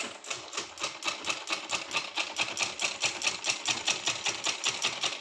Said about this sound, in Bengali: আমার জামাটা সেলাই করতেছি